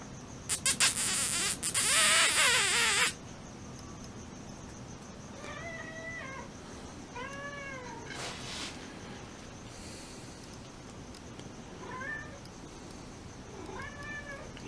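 A cat meows repeatedly indoors, about five drawn-out, rising-and-falling calls spaced a second or two apart, following a brief loud burst of noise at the start.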